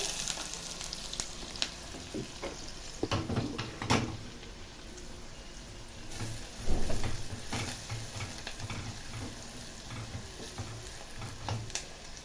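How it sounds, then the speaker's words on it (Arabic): Steady crackling sizzle of onion frying in a hot pan, with occasional scrapes and knocks of stirring and utensils, close up and without speech. "بصوا ولعت بقى على البصله اهي"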